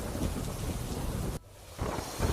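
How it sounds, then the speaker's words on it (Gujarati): Heavy monsoon rain pours down in rural Kodinar near Gir Somnath, a steady dense roar with rumbling thunder underneath, cutting off briefly before resuming. "ગીર સોમનાથમાં સતત બીજા દિવસે આ વરસાદ જોવા મળી રહ્યો છે"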